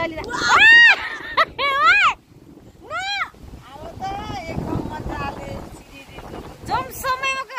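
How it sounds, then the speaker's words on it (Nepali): Strong wind blows outdoors beside the Sunkoshi river in Okhaldhunga, buffeting the microphone with a rough, steady rush while loud, high-pitched voices shout and call over it. "कस्तो हावा चलिरहेको"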